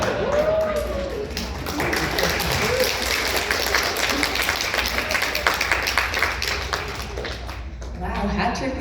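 Panel audience at an anime convention applauds in a dense, sustained burst of clapping lasting several seconds, fading toward the end with a voice starting up.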